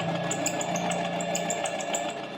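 A sewing machine runs slowly with a steady mechanical hum and a quick, regular ticking of the needle, close and continuous.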